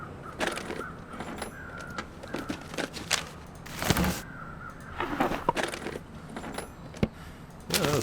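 Crows caw a few times at a distance in the snowy wilderness of The Long Dark, mixed with intermittent crunching and rattling sounds nearby.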